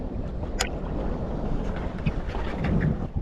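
Wind gusting over choppy water around a small boat in Moreton Bay, a steady rushing roar with buffeting microphone noise and faint splashes against the hull throughout.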